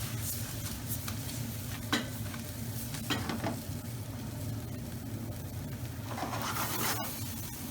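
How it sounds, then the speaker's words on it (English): Thai chicken fried rice with cooked egg being tossed in a hot pan, a low, steady sizzle with scraping stirs and a few brief clanks of utensil on metal, close and continuous. "we'll add in our cooked egg and toss that through as well."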